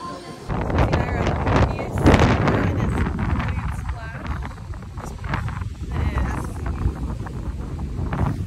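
Strong wind buffets the microphone at a seaside cafe in Curacao, a constant loud rumbling roar under a person talking throughout.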